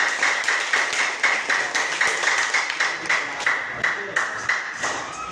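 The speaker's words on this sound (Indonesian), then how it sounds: "Tepuk tangan." A classroom audience claps together in a brisk, regular rhythm of sharp near claps that runs steadily for several seconds, with a few voices mixed in.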